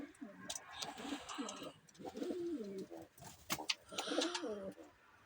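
Pigeons coo repeatedly at close range, soft rolling calls overlapping one another, with a few faint clicks and rustles in between.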